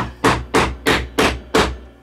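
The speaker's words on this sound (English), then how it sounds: "I'm going to drop this on, and then I'm just going to" A hammer taps a reloading die down onto a .38 rimfire cartridge case for a Remington New Police revolver, five sharp, evenly spaced metallic knocks, close and loud, with no talk.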